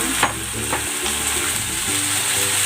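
Marinated chicken hitting a hot pan and frying with a steady, close, bright sizzle, with a few stirring scrapes over it and no speech.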